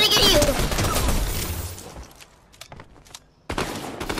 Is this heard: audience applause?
no